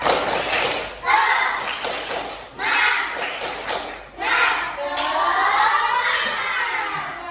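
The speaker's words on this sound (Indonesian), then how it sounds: "Tetap semangatnya sambil berdiri. 1, 2, 3. Tepuk semangat." A school class doing a rhythmic spirit clap, with bursts of clapping and thumping between stretches of a teacher speaking and children's voices, loud and close in a classroom.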